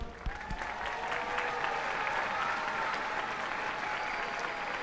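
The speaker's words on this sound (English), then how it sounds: "Round of applause." A crowd applauds steadily for several seconds at a school district strings festival concert, a dense even clapping at moderate distance with no voices standing out.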